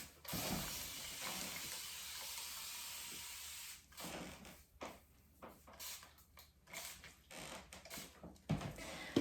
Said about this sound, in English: Water, you want to wet him down.